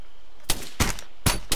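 Gunfire in the Arma 3 military game comes as four loud, sharp broadband shots in about a second, close and punchy, with quiet gaps between them.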